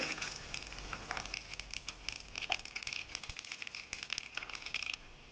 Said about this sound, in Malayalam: നമ്മുടെ വെളിച്ചെണ്ണ ഇവിടെ ചൂടായിട്ടുണ്ട് അതിലേക്ക് ആവശ്യമായ കുറച്ച് ഉലുവ ഇട്ട് കൊടുക്കുന്നുണ്ട് കുറച്ച് കടുക് കൂടെ ഇതിലേക്ക് ആഡ് ചെയ്യുന്നുണ്ട്